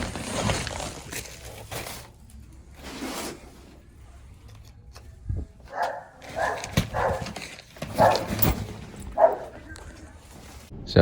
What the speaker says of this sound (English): There's all the dogs, you kind of hear them.